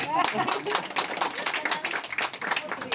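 An audience claps at a regional youth pageant final, a brief burst of quick, fairly close hand claps mixed with talk.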